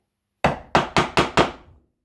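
Five sharp, evenly spaced wooden strikes ring out close and loud, like a mallet or chisel chopping wood near a marked saw line, with no talking.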